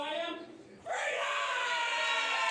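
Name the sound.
crowd cheering for fighter Freedom Ramsey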